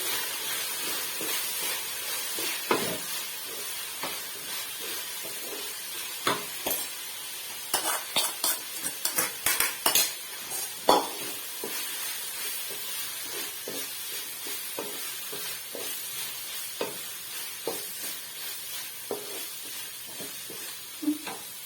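Egg and softened tomato fry in a pan for vegetable egg fried rice, with a steady low sizzle broken by repeated scraping stirs and clinks of a spatula, close and without talk.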